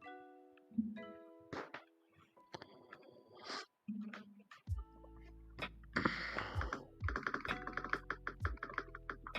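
Clicks and taps of typing on a computer keyboard at a desk, irregular bursts of keystrokes close to the microphone with short pauses, mixed with faint rustles and other handling noises.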